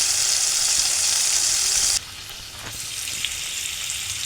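Prawns frying in oil in a pan as the second side cooks, a loud bright sizzle that drops sharply halfway through and then carries on as a softer crackle, with no talk.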